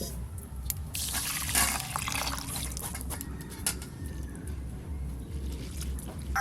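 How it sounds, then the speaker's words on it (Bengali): Rice and mung dal are rinsed together in water, giving a steady, close sloshing and dripping wash with trickles over a low background hum, and no one speaking. "ডালগুলো একবারে চালের ওপরে দিয়ে একসঙ্গে ভালো করে ধুয়ে নেব।"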